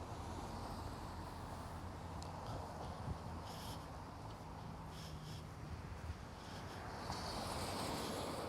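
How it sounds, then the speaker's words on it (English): Wind blows outdoors along Eglinton Avenue West, a faint, steady broadband rush with gusts buffeting the microphone and distant street traffic underneath, without speech. "This beautiful windy day is so refreshing."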